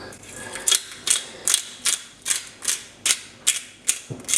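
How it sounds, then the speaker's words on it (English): A pepper mill grinds black pepper in about ten regular crunchy clicks, each twist giving a sharp ratcheting crackle, steady in rhythm and close up, with no talk. "a bit of a grind of black pepper"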